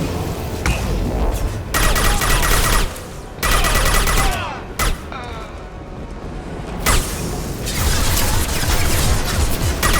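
Loud gunfire in Mass Effect as shots hit a loosened fuel tank, with dense bursts of rapid fire broken by short pauses and sharp impacts, while voices speak between volleys.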